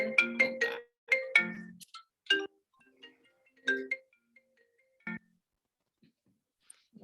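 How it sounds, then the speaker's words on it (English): An Apple phone and watch ring at the same time, giving clipped bursts of bright electronic ringtone notes in quick clusters that thin out into scattered chimes over several seconds, with quiet gaps between. "My watch is ringing. My phone is ringing."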